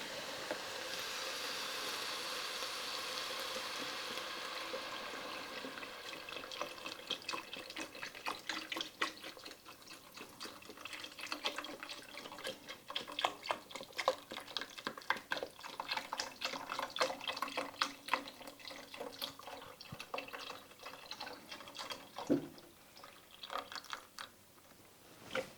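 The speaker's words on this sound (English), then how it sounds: "So now I'm going to be adding in my beef broth." Beef broth pours into a pot of sauteed onions, garlic and mushrooms, a continuous splashing trickle that turns into bubbling, gurgling liquid with a few clinks of utensils.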